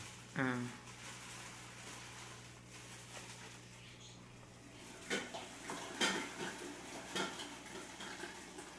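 Milk sweetened with jaggery is stirred in a pot, and a spoon gives a few faint scrapes and light clinks against the metal, quiet and spaced out.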